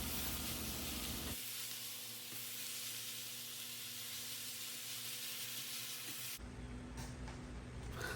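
Ground chicken and vegetables sizzle and fry in a pan, a steady close hiss that dips briefly as the mixture is stirred, then flares louder again.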